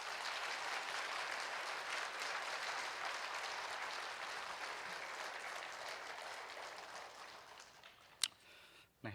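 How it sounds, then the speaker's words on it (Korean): Warm, sustained applause from a church congregation at a Wednesday service, a steady dense wash of clapping that fades toward the end, closing with a couple of sharp louder claps. "뜨거운 박수로서 맞이해 주시길 바랍니다"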